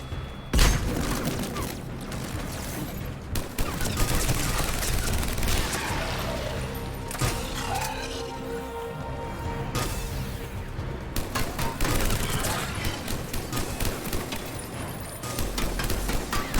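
Enemy gunfire in a long-range Mass Effect battle, heavy artillery-like shots booming and rattling in dense, continuous bursts over a busy combat soundscape, loud throughout with brief lulls.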